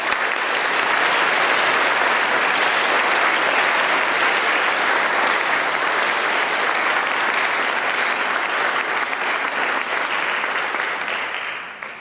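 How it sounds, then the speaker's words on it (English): An audience applauds its presenters at a chant and song gathering, a dense, loud wash of clapping that holds steady for the whole stretch before tapering slightly at the end, with no talk. "Will you join me in applause for them?"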